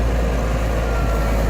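A farm tractor hauling a load of about 15 tons of dry harvested wheat toward the shed, its engine a steady low rumble throughout, close and fairly loud with no talk.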